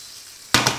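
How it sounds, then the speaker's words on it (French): Tomatoes dropped into a very hot frying pan for a quick sear, a sudden loud burst of sizzling after a quiet moment, with a second surge as they are tossed. "Ma poêle est bien chaude, ça chante."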